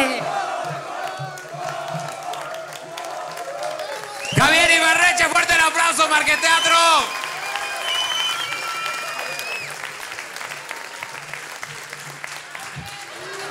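Audience applause and cheering for a comedian at a stand-up roast, a loud burst of clapping and whoops lasting a few seconds amid crowd noise and music, with talking before and after.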